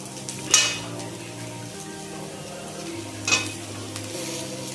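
Thickly cut onions are tipped into a pan with half-fried chilli for egg chowmein and stirred, giving two short scraping, sizzling bursts over a steady musical backing.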